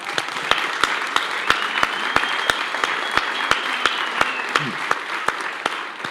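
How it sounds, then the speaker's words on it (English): A crowd claps steadily in sustained applause, dense and fairly loud, with a few voices faintly mixed in underneath. "Give her a round of applause."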